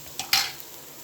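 Cauliflower cooks with egg in a hot pan, giving two short, soft bursts of sizzling and stirring that fade quickly into quiet.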